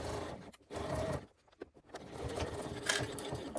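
A sewing machine stitches and backstitches a seam on a crossbody bag, its close, rapid whirring running in bursts separated by brief pauses.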